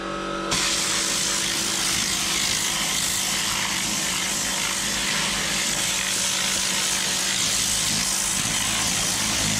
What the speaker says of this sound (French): maintenant on enlève l'eau que l'air pour sécher